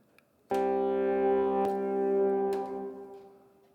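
A sustained, buzzy modular synthesizer tone with a reverb wash starts abruptly, holds steady and then swells into a long, fading tail.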